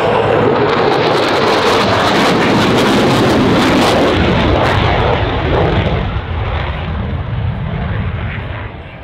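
RAAF F/A-18F Super Hornet jet passing at an airshow display, a loud continuous roaring jet engine rush that stays broad and heavy throughout, slowly easing toward the end.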